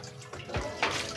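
Water is poured and splashed while the dogs' drinking water is changed, giving short, uneven sloshing and trickling sounds, close by and fairly soft.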